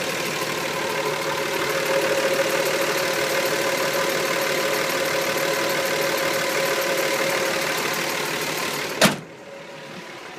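2004 Dodge Ram diesel engine idling, a steady close rumbling clatter with a constant hum running evenly for about nine seconds before a sharp knock and the sound dropping away, no talking.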